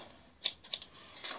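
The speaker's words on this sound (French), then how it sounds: "Donc vous prenez des ciseaux." A few quick crisp snips of scissors cutting paper, three or four short bursts close by, quiet otherwise.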